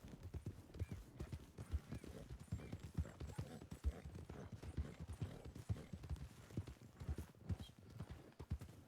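Horse hooves at a canter in the WildRP video game, a steady, fairly close clip-clop rhythm of hoofbeats running throughout, with a faint whinny-like tone in the background.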